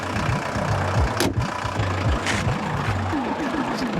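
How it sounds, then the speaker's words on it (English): A 45-year-old VW Golf Mk1 engine idles with a rough, steady low rumble and a persistent whine layered over it, heard up close and continuously. "even at idle you could hear this whining sound"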